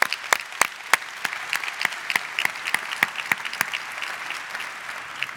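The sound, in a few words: audience applause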